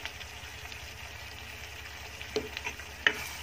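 Prawn and vakkaya curry seasoned with chili powder is stirred in a pan. A soft, continuous sizzle runs underneath, broken by a few light clinks of the spoon against the pan near the end, all quiet and close.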